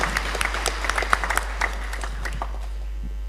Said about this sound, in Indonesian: terlalu sering tepuk tangan